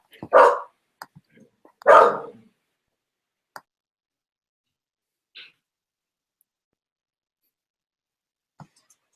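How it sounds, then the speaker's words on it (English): A dog barks twice in quick succession near the start, loud and close, followed by a few faint ticks and small sounds in an otherwise quiet room with no talking. "She barks at everything."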